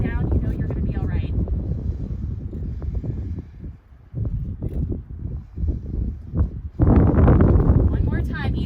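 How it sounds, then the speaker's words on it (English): Gusty wind blowing outdoors during a yoga practice, roaring and buffeting the microphone loudly in low rumbling bursts, with a strong gust surging near the end, while a person talks throughout. "really windy all of a sudden"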